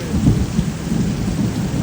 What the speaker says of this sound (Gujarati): આજે વરસાદ આવ્યો. જો વીજળીના કડાકા ને ભડાકા થાય છે.